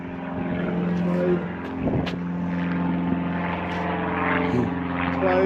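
A propeller plane drones steadily overhead at a farm, a continuous low engine hum with strong tonal bands throughout, fairly loud and even.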